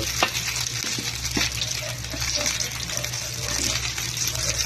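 Pork intestine adobo frying in its own rendered fat, a steady close sizzle and bubbling crackle with faint stirring clinks and a low hum underneath.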